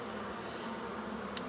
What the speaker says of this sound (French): il reste encore pas mal d'abeilles